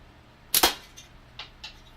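A slingshot shot at a can outdoors: one sharp snapping release followed by a couple of fainter, short taps, quiet and somewhat distant, with no talk.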